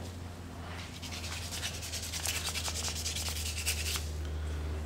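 80 grit sandpaper rubbing the chrome plating off metal guitar hardware, a steady close scratchy scraping in quick back-and-forth strokes over a constant low hum, with no talking.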